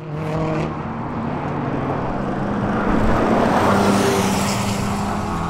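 A Kia Stinger GTS sports sedan's engine roars steadily at speed on a race track, the revs rising and growing louder toward the middle, with no voices.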